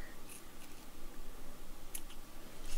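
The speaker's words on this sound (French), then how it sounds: "avec des ciseaux bien pointus et bien affilés, on coupe le long de l'ouverture d'un côté" Sharp, pointed, well-sharpened scissors cutting along the opening of a fabric Santa Claus hair bun cover, giving soft, close snips over a steady rustling background.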